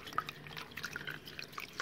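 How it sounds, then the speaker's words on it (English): Water from a small bucket is poured over a baby's head to rinse it during a bath. It comes through as faint, close trickling and scattered drips, with no talking. "just hold your hands over their eyes and rinse it off"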